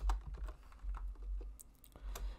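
Fast keystrokes tap on a computer keyboard during a JavaScript coding session, a quick irregular run of soft clicks heard alone with a low hum beneath.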